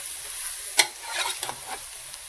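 Scrambled eggs being scooted together in a frying pan on the stove, a faint steady sizzle with a few sharp scraping knocks from the utensil, the last one loud at the end.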